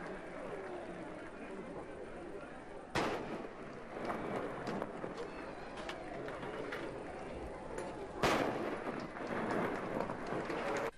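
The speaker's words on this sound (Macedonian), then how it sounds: "И 3 пати се пука" Celebratory gunshots at a village wedding on Petrovden in Galičnik: two sharp, isolated bangs a few seconds apart cut through a constant rushing background.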